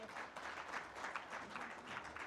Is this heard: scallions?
no